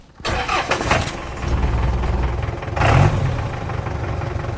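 A diesel engine swapped into a Jeep Cherokee XJ starts and settles into a rough, steady idle, loud and close, with a brief surge partway through.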